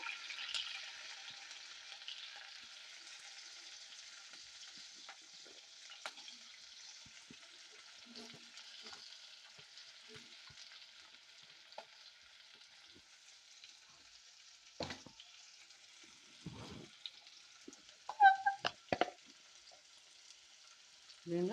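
Faint, steady hiss of green chillies and onion pieces frying with mustard seeds and cumin in hot oil, with a few soft clinks and stirring scrapes near the end.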